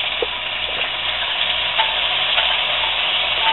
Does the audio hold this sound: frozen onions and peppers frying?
yes